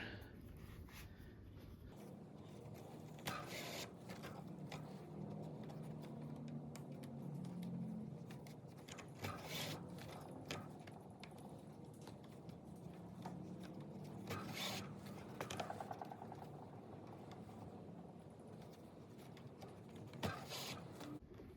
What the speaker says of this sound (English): I'm just going to use my traditional saddle stitching here, down through here